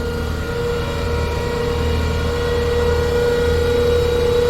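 A modified car engine with an aftermarket exhaust hums at a steady idle, a sustained low drone with a constant tonal whine, close and even throughout with no talk.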